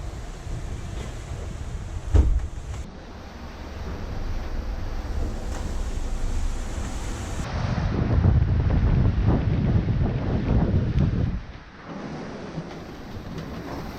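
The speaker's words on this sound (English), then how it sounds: "We have 27 knots of wind, doing 9 knots of speed." Strong wind of about 27 knots buffets the microphone aboard a Lagoon 50 catamaran sailing at 9 knots off Fuerteventura, with waves rushing and surging beneath a steady roar.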